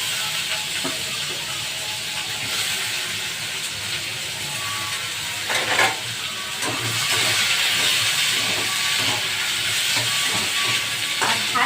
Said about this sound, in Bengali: অল্প তেল দিয়েছি আর যাবতীয় ভেজিটেবলস আছে আমি সব কিছু এখানে ভাজতে দিয়ে দিলাম